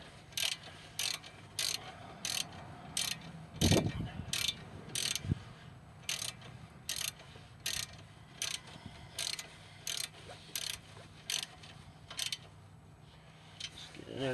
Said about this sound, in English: 15mm ratchet socket out. Get that all snugged up.